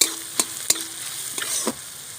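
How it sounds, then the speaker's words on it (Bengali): Chopped onion sizzling in hot oil for a lote fish chop, a moderate steady fry broken by several sharp spatula scrapes and taps against the pan, close, with no voices. "এবার দিয়ে দিচ্ছি পেঁয়াজ কুচি ভালো করে নেড়ে চেড়ে নেবো"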